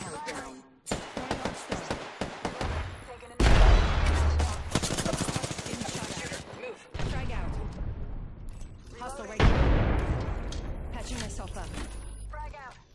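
Gunfire in Apex Legends: rapid rattling bursts and single shots in clusters, with loud sustained volleys, under and between excited talk from a player.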